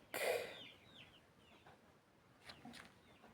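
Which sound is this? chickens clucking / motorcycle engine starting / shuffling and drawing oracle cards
chickens clucking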